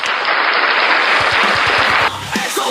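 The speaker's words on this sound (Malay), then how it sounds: "berikan tepukan yang gemuruh" Applause from an audience at a Yamaha Xmax scooter gathering in Terengganu, Malaysia: a loud, dense burst of clapping that holds for about two seconds, then cuts off sharply, with low thumps and a few scattered sounds after.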